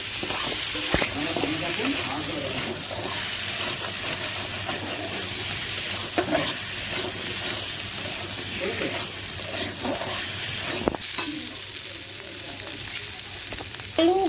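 Potatoes frying with turmeric and spices in a pan, a steady close sizzle with occasional stirring scrapes throughout.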